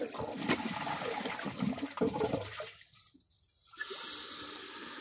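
A 2009 Kohler Wellworth toilet flushes nearby, a loud rushing swirl of water that drains away into a brief quiet before the tank refill hiss starts up.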